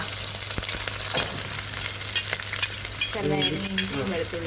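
Chopped green chilli, ginger and garlic sizzle loudly in hot oil in a pan for prawn theeyal, with a steady close frying hiss and some stirring. A voice briefly joins near the end.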